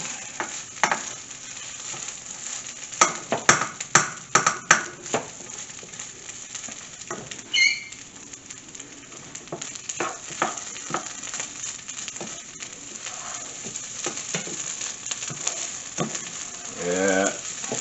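Jerk rice frying in a pan, a steady sizzle punctuated by repeated clattering spoon stirs and scrapes in short bursts, close and fairly loud, with a brief chirping sound partway through and no talk.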